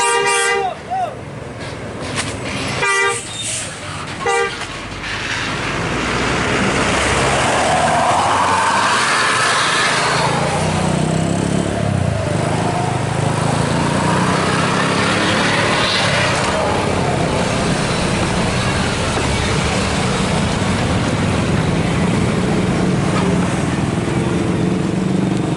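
Buses rumble past along the busy road through Ombilin market, with engine noise and horn toots over a loud, continuous traffic din, while someone talks over the scene.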